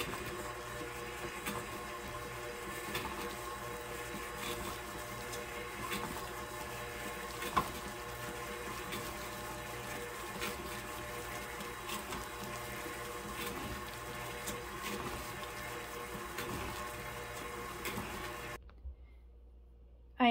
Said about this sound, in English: we will turn the mixer back on until it is mixed in together